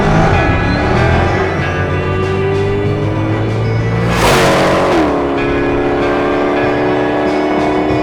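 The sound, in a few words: Hennessey H700 supercharged C8 Corvette Stingray engine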